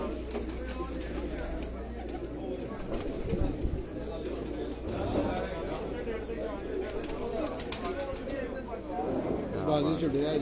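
Shahzor pigeons coo softly in a loft, low repeated calls mixed with faint chirps and background chatter from several people talking nearby.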